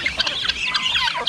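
Chickens at a backyard coop clucking and squawking, a quick run of close, loud calls with no talk.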